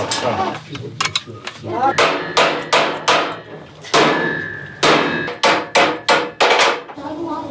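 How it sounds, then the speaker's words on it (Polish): A mechanic hammers a bent exhaust clamp on a Polski Fiat 126p Maluch, knocking it away from the oil pan during a roadside repair in Tajikistan. Sharp metallic blows land close by, some in quick bursts and some spaced out, over several seconds. "teraz tutaj mechanik to odgiął młotkiem"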